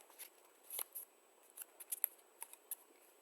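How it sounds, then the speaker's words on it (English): Paper square being folded in half for a symmetry lesson: soft, close crinkles and sharp little creasing snaps in an irregular cluster, quiet and alone with no talk. "if we have a square, all right, and I fold it in half this way"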